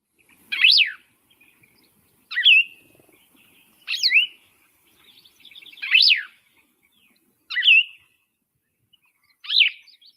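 Songbird sings short burry, husky phrases, six separate rising-and-falling notes spaced about every 1.5 seconds, fairly close and clear against a quiet background with no voices.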